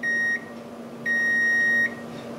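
Two sharp electronic beeps from a multimeter continuity test: a short one, then a pause and a longer sustained tone, high-pitched and close, over a faint background hum.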